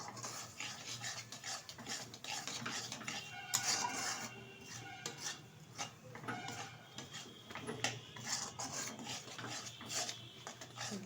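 Shelled peanuts are stirred into melted jaggery in a metal pan, giving continuous scraping and rasping strokes with occasional clinks of the utensil against the pan.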